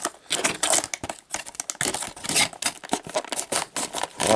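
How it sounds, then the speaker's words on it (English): Tiny scissors snip rapidly through plastic toy packaging for a Greenlight Hollywood die-cast Wagon Queen Truckster, giving dense, irregular clicks and crinkling snips up close. "Lots of plastic to chew through there with the tiny scissors."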